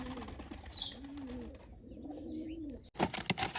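Pigeon kept in a loft coos twice in low, wavering notes close by, followed by a sudden burst of wing flapping and clatter.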